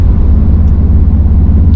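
A 2018 Volkswagen Golf R with nearly 100,000 miles pulling hard, a loud, steady low engine roar heard close from inside the car, with no speech over it.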